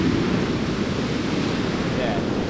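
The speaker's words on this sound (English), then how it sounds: "There's some pretty massive waves here, and like they're kicking up a big fuss when they crash." Large ocean waves crash onto a beach in a continuous broadband roar, loud and steady throughout, with wind noise on the microphone.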